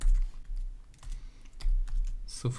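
Computer keyboard typing in bursts of quick key presses, close and fairly loud, while entering a name and date into a Bootstrap 5 and jQuery web design.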